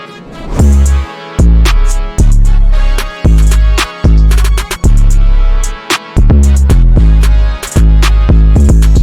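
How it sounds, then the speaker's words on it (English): A loud, punchy FL Studio drum beat plays with booming deep bass hits, snappy snares and quick hi-hats in a steady looping pattern, no voices. "I'm going to show y'all a little preview of the drums"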